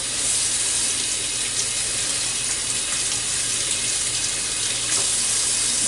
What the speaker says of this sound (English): No, I'm going to wash them off a little bit here.